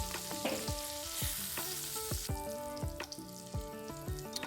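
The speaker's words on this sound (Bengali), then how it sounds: "পটল আর আলু খুব সুন্দরভাবে ভেজে নিতে হবে" Sliced potol and potato fry in hot oil in a pan, a steady sizzle broken by repeated scraping strokes of a spatula at a regular pace, close and clear with no voices.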